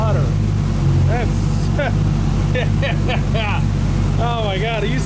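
A 1940 Ford Sedan engine idles with a steady low rumble close by, while someone talks over it.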